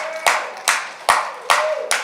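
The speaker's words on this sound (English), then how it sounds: "Give Dan one more round of applause." An audience at a youth gathering claps in unison, producing five loud, evenly spaced claps in a steady rhythm, close and clear.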